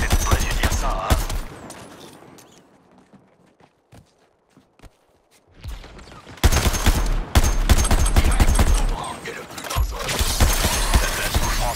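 Film gunfire aimed at Boomerang in Suicide Squad: loud bursts of shooting and impacts in two stretches, with a quiet gap in the middle where faint sparse sounds continue.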